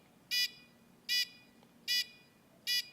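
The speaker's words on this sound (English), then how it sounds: "We should get a buzzer and a flashing light." A Little Bits electronic circuit buzzer sounding four short, evenly spaced high-pitched beeps, each under a quarter second, clear and isolated over faint background hiss.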